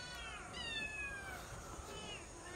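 A village house cat meows faintly, a single drawn-out call heard at a distance over steady background noise.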